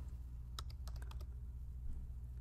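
Quick bursts of keystrokes on a computer keyboard sound as a picture name is typed into a file search, a short run of clicks over a steady low electrical hum.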